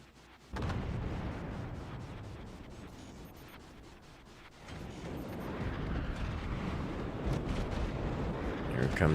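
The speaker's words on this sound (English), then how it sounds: "Here comes the airstrike." A run of airstrike explosions in a video game, a dense, booming rumble that swells after a short lull and keeps building loud to the end.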